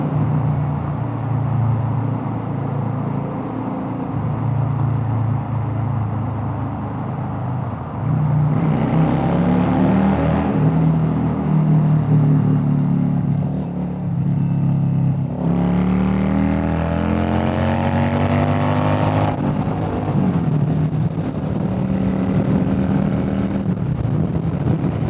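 A Yamaha V-Star cruiser motorcycle engine drones loudly while riding, with wind rush and rising pitch during accelerations through the gears.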